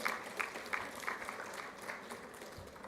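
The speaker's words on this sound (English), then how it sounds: "Let's give him a round of applause." A conference audience at a Pan-African environment and health event claps for a board chair, a modest, fairly faint round of applause with scattered distinct claps that holds steady for a few seconds.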